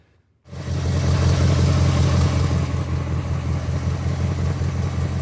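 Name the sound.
Jeep Wrangler TJ engine idling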